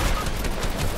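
Video game gunfire crackles in a dense, continuous burst of shots heard close and loud for about a second.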